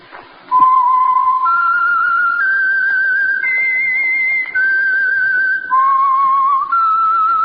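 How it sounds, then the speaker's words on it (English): A lone whistled melody, the identifying theme of the Signal Oil radio program The Whistler, rises and falls through a slow eerie tune of sustained notes, clear and prominent with only brief gaps. "the signal to listen for is this whistle that identifies the Signal Oil program, The Whistler"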